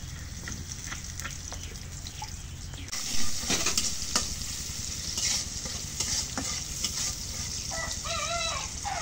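Oil sizzles in a cooking pan with a steady hissing crackle up close, broken by scraping stirs, while a rooster crows faintly in the background.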